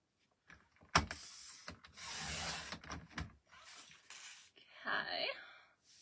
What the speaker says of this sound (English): we're gonna get our trimmer here